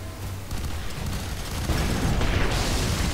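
A grenade goes off in the F.E.A.R. 3 shooter game, a broad rumbling blast that swells and holds near and loud, with no talking over it.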